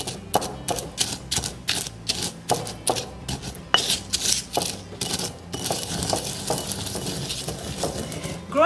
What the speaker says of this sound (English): So I'm going to have my mortar and pestle, just mix this together.